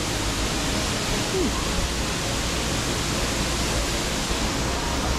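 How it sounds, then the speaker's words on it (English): A waterfall in the middle of Tbilisi, Georgia, produces a steady broadband rush of falling water that stays even and continuous throughout. "I was not expecting a waterfall in the middle of Tbilisi"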